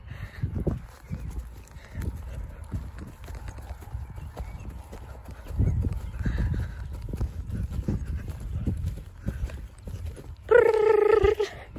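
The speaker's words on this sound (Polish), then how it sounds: "nagram Wam tak z góry galop na luźnej wodzy" A horse gallops on a loose rein across open ground, its rhythmic hoofbeats thudding steadily and close, and it ends with a loud neigh near the finish.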